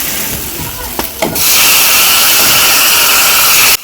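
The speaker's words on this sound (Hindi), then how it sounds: "सरसों का तेल हमारा गरम हो गया है तो लाल मिर्च डाली है, करी पत्ता डाला है, और ये डाल दी है मेथी" Tadka of red chilli, curry leaves and fenugreek dropped into hot mustard oil: a couple of soft clicks, then a sudden loud, sustained sizzle that holds steady until it cuts off.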